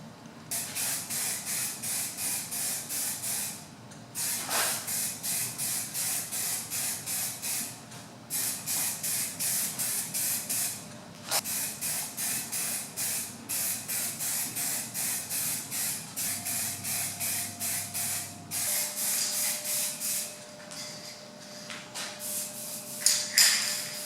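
A 1970s step ladder is spray painted in long hissing aerosol bursts, each a few seconds long with short pauses between them, steady and close, with no voices.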